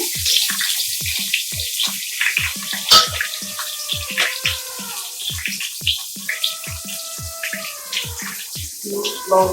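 Dried red chillies, bay leaf and chopped onion fry in hot oil for a mutton and coconut dish, a steady close sizzle and crackle with repeated utensil clicks and stirring throughout.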